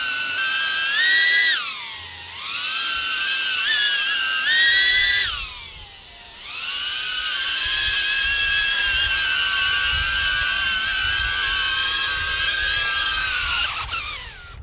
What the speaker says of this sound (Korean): 일단 기본 프로펠러 날려봤는데 그 귀를 찌르는 소음, 좀 고주파대의 소음이 나면서 굉장히 시끄럽습니다.